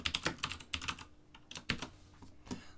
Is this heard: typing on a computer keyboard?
yes